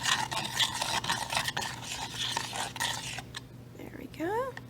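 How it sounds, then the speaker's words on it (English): A spoon stirs salt into homemade berry ink in a small container, with quick repeated scraping and swishing strokes, close and fairly loud, followed by a brief softer clink and rattle at the end. "I'm just going to give this a quick mix. And you want to mix this until the salt dissolves in here."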